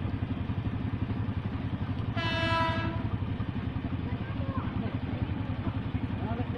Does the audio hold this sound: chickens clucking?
no